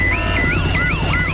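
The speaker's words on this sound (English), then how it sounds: "Daddy Pig has set off the noisy house alarm" A noisy house alarm goes off in a children's cartoon, a loud electronic siren warbling in rapid rising-and-falling sweeps repeated several times without pause.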